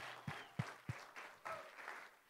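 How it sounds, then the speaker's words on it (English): A church congregation applauds, a quiet scattered burst of hand clapping with a few sharper claps standing out at first, heard from some distance in the room. "Let's give them a hand clap."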